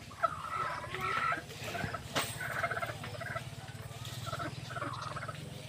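Chickens cluck and chatter in repeated short bursts at moderate distance, with a low steady background hum and one sharp knock partway through.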